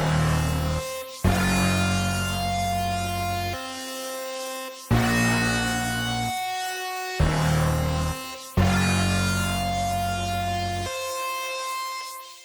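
Synth lead from the Waves Flow Motion plugin plays a repeating pattern of bright, sustained notes in short phrases, steady and fairly loud, with no voice over it.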